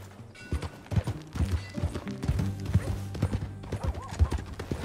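Horse hooves clip-clop in Red Dead Redemption 2 at a steady riding rhythm, close and fairly loud, with a brief whinny-like call and other game sounds around them.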